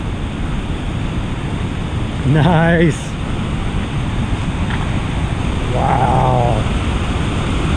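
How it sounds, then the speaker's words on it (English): A waterfall along the John Muir Trail in the Sierra rushes as a steady, broad roar throughout, with a hiker's brief exclamations rising over the constant water noise. "Check this waterfall out."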